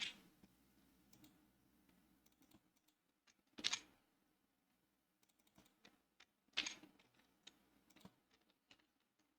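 Quiet computer keyboard keystrokes entering shortcuts like Ctrl A and Ctrl V: sparse light clicks with a few sharper taps spaced a few seconds apart, close and faint.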